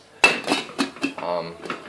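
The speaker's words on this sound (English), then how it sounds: "I'm gonna chuck a lid on it." A lid is set onto a cooking pot while frozen vegan Asian noodle soup cooks, giving several close, sharp metallic clanks and a short ringing rattle in quick succession.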